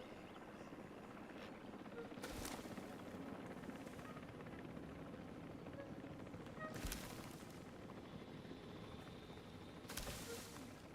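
A helicopter returns to the park in Jurassic World Evolution 3, its steady rotor drone running throughout with a few sharp thumping bursts, while a player speaks quietly underneath.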